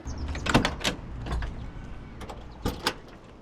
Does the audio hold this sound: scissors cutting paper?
no